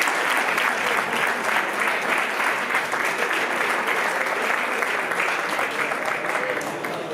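Audience at a bullfighting gala in Segorbe claps in a sustained, dense burst of applause that carries steadily throughout at moderate loudness, with no voices standing out.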